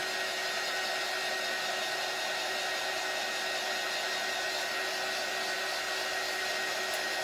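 A hair dryer blowing steadily on painted gourds, a continuous loud whooshing whine that holds even and unbroken from start to finish with no voices.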